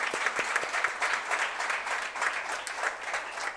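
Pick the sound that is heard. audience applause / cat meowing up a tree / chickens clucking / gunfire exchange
audience applause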